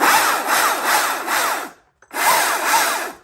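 A Stihl MSA 220 C battery-powered electric chainsaw cuts through wood with a loud, close, rasping buzz in pulsing surges, stopping briefly before another cut starts.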